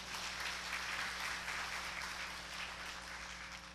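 A church congregation applauding together in a large room, sustained clapping at an even level that tapers slightly toward the end.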